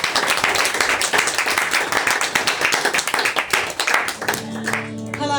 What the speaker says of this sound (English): So let's just give her a big applause to Penny Stone.